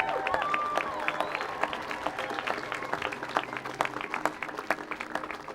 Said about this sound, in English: We all really want to applaud you.